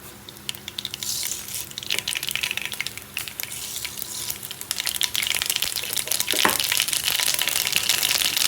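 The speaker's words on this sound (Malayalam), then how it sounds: "എണ്ണ ചൂടായി കഴിഞ്ഞിട്ട് നമുക്ക് കടുക് പൊട്ടിക്കാം." Mustard seeds splutter in hot oil in a heated pan, a dense crackling sizzle with sharp pops that grows steadily louder and busier.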